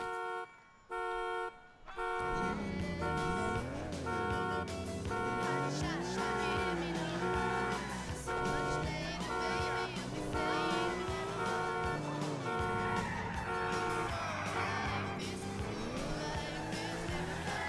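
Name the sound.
Ferrari car driving in GTA Vice City mod, video game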